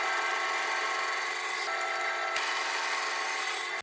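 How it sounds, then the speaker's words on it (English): A bandsaw cutting a piece of wood, a steady close machine whine and rasp holding constant throughout, with a couple of brief ticks. "now I'm gonna use my bandsaw to connect this to the bottom"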